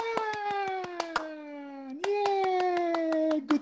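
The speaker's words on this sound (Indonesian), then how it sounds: "1, 2, 3, tepuk tangan." A group at a university sharing session claps hands in a quick, uneven patter, sharp claps scattered across the moment alongside a sustained pitched voice.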